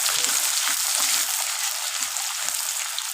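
Sliced onion fries with black cumin in hot oil, giving a loud, steady, close hiss with soft clicks from stirring underneath, while an egg and potato dish is being cooked.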